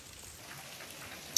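Rain falls steadily outdoors, a soft, even patter with one brief sharper drop near the end and no voices.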